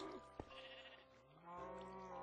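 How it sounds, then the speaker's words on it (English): A short bleat from a baby sheep in Minecraft, heard over a steady backdrop of game music and ambience, with a voice briefly present. "I can hear a baby sheep. Where's the baby sheep gone?"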